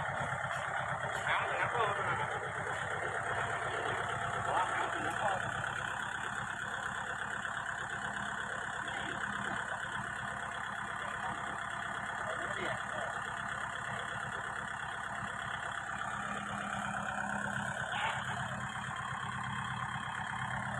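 A steady tractor engine idles throughout with a low, even rumble, while people talk nearby over it.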